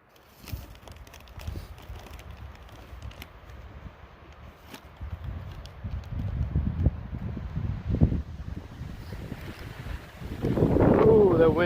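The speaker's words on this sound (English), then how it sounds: "Ooh, that wind is chilly." Chilly wind at a lake on a sunny day along a long-distance hiking trail in Oregon, buffeting the microphone in rising gusts that grow louder toward the end, with a voice speaking over it.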